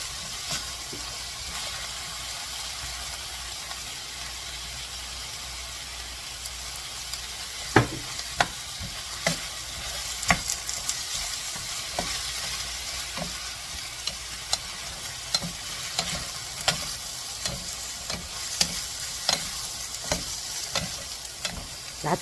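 Gochu japchae with oyster sauce is stir-fried in a pan, giving a continuous close hiss and sizzle while a utensil scrapes and taps against the pan in frequent irregular clicks, with no talking.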